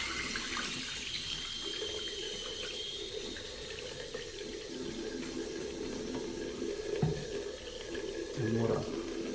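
Tap water running steadily into a sink while glue is washed off with soap, a constant close hiss and splash over the whole stretch, with some faint handling sounds.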